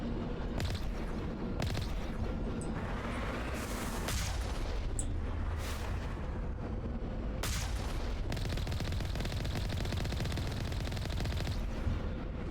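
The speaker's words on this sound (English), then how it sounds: "it's a dangerous planet. Lots of explosions." Explosions go off in the video game BackPack Hero: a loud, unbroken barrage of booms and crackling bursts that pile on top of each other with no pauses.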